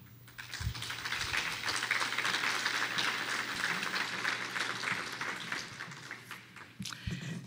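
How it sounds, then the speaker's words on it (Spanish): Audience applause at a lecture hall after the introduction of a keynote lecture, a dense steady patter of many hands clapping that swells, holds, then thins out toward the end. "Le damos un cordial aplauso."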